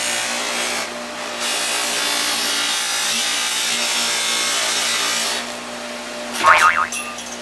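A Harbor Freight 61557 polisher runs with a steady, loud whirring hum, then cuts off near the end, followed by a brief clattering jolt.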